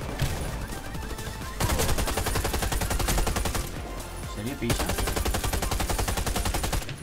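Loud, close automatic gunfire in the video game Warface, rapid continuous bursts broken by short pauses, with someone briefly speaking over it.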